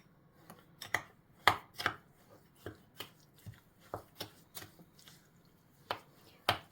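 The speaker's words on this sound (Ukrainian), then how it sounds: "А зараз ми його пропускаємо через м'ясорубку." A series of sharp, irregular crunching and squelching bursts close by as lemon and orange are forced through a meat grinder, with short pauses between them.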